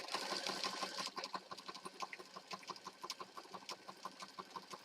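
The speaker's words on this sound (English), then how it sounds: "Now I can continue sewing." A sewing machine stitching pages of a junk journal runs in a steady close rhythm of rapid mechanical clicks and whirring, slightly louder at the start, with faint clucking fowl somewhere in the background.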